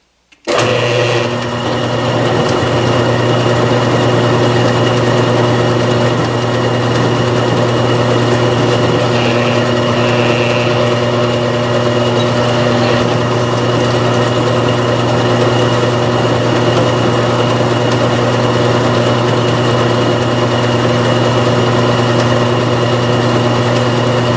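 A milling machine steadily cuts half an inch down into 5/8-inch-thick material for custom C-clamps, a constant loud whine with a steady hum running alone for the whole stretch.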